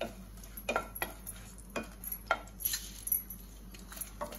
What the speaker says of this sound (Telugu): దినుసులు ఇలా వేసుకోవాలి. ఇలా ఫ్రై చేసుకొని